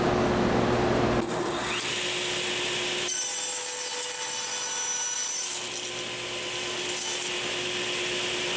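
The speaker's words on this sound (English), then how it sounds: "Now I can use my tenoning jig as usual to cut the cheeks of the tenon." A saw rips through wood to cut tenon cheeks using a tenoning jig, producing a loud, steady, broadband cutting roar that shifts in tone as the blade works through the wood, with no talking.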